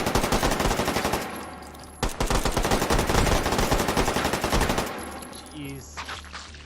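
Rapid automatic gunfire in the VR shooter Take & Hold, loud and close, firing in dense bursts for about five seconds with a brief break, then trailing off into scattered shots and clatter.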